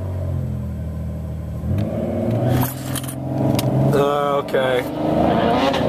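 A turbocharged Honda Civic revs and accelerates alongside an Impala, engine rumble rising and falling close by with intermittent whining surges, as people talk over it.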